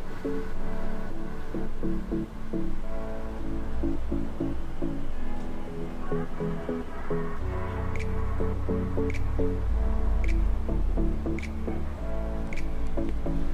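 Milk being heated for making chana is stirred continuously in a pot, giving soft wet scraping and sloshing with small dripping taps, close and steady with no talk.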